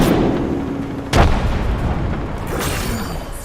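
A frag grenade goes off in a first-person shooter game, one sharp loud boom roughly a second in, ringing over dense background battle noise, with a second muffled burst shortly after; no talking.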